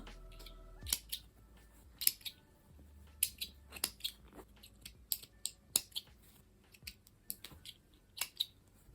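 Small scissors snip through fabric repeatedly in short, crisp clicks, irregular in rhythm, close up and fairly quiet, with no talking.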